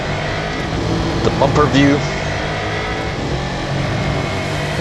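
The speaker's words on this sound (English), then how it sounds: "It's a interesting engine noise." Race car engine in Real Racing 3 hums steadily beneath someone talking, with a brief rising whine as it revs partway through, fairly loud and continuous.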